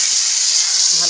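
Chopped tomato sizzling in a pan over a wood-fired clay stove in a village kitchen, a loud, steady hiss filling the whole brief moment.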